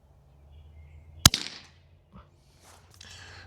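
Pinty Buster air gun with FDE stock kit fires once, a single sharp pop of released air followed by a brief mechanical clatter, close and fairly quiet against a low background hum.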